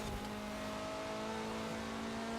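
A 2016 Mazda MX-5 engine in Forza Horizon 4 holds a steady, humming rev with a constant tone throughout, loud and close, with no talking.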